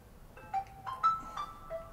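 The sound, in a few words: phone ringing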